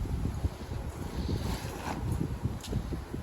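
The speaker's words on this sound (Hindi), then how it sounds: "बाहर तेज हवा आवली" Strong wind blowing outside buffets the microphone, a rough, constant low rumble with gusty bursts, loud and steady throughout with no voices heard.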